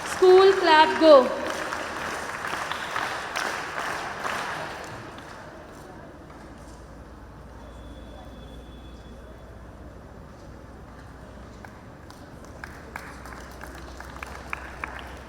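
A school audience claps at the inauguration of a computer and robotics lab, with a burst of applause in the first few seconds that fades out, leaving a quiet room with faint background sounds.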